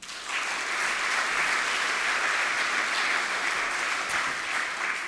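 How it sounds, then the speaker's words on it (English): At the University of Waikato Three Minute Thesis finals, an audience applauds judge Jan with a full, steady wash of clapping that stays even from start to finish. "So a round of applause for Jan."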